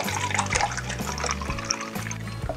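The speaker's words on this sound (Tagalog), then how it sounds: "kuha lang po muna tayo ng 1 cup na tubig dito sa ating 3 liters na tubig" Water scooped from a container holding three liters and poured as one cup is measured out for cooking cornstarch, a steady close splashing trickle with gurgling and a few hollow clunks, no talk.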